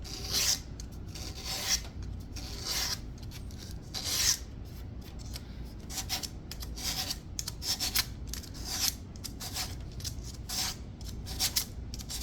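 Sandpaper rubs back and forth over a glued wooden chair joint, producing steady rasping strokes in a regular rhythm, close and moderately loud with no talk.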